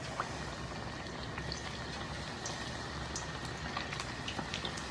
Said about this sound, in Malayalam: ജസ്റ്റ് അങ്ങനെ തന്നെ വിങ്ങ് എണ്ണയിൽ പൊരിച്ചെടുക്കുക.